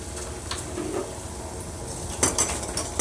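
A spoon works through ghol (purslane) leaf curry in a pan, giving soft scrapes and a few metallic clinks against the vessel over a low, constant background hum.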